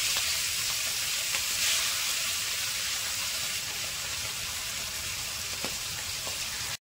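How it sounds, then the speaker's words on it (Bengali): Shrimp fry in hot oil in a wok, giving a steady, loud, close sizzle with a bright crackling hiss that holds evenly throughout, dotted with a few faint pops and no voices. "এবার আমি প্রথম চিংড়ি মাছগুলো ভেজে নিলাম।"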